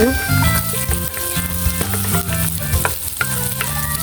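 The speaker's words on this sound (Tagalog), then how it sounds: "nilagay na po ni mama yung bawang" Garlic sizzles and fries in a hot pan, a steady crackling hiss with tonal music and faint talk layered over it throughout.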